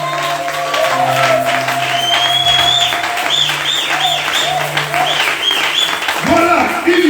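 A church congregation cheers and applauds together, a sustained wash of clapping and shouts that holds steady throughout, with a singer's or worship leader's voice and music carrying over it.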